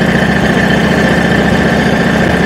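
A Harley-Davidson motorcycle engine idles close by, a loud, steady, rumbling throb with an even pulse that runs unbroken and with no voices over it.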